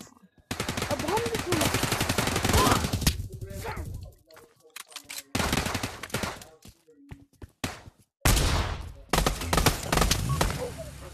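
Bursts of automatic AK rifle fire ring out in a video game, loud rapid volleys in three long stretches separated by short pauses, with a voice talking over the shooting.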